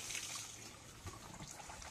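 Water runs from an opened tap at a mountain house, a faint continuous splashing trickle with no one talking.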